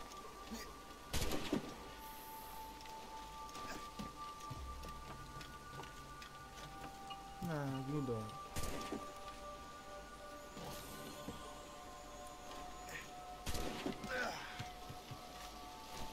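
Steady rain pours throughout the Assassin's Creed game scene, with a few sharper thunder-like cracks and a brief voice-like warble midway, all fairly even and continuous.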